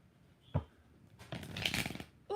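Tarot cards are shuffled up close: one sharp tap, then a rapid riffling burst lasting about a second, followed by another knock at the end.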